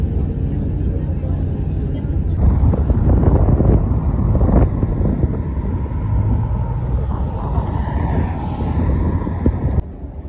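Strong wind at an outdoor spot before a football match gusts steadily across the microphone as a loud, rumbling buffet, with a voice speaking over it partway through.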